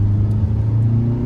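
A 2025 Hyundai Venue HX10 diesel automatic accelerates in sports mode, a steady low engine drone and rumble heard from inside the cabin, fairly loud and even throughout, with no talking.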